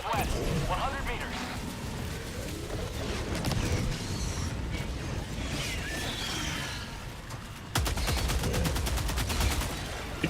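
Rapid gunfire from a weapon in the video game Helldivers 2 on Helldive difficulty, a dense run of repeated shots with clanking mechanical noise, heavier and steadier in the final stretch, with game effects layered throughout.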